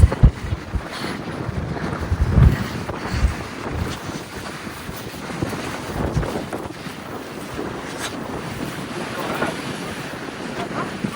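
Strong wind buffets the microphone in gusts on a beach in the UK, with rushing air and surf-like noise; a couple of faint voices are briefly audible.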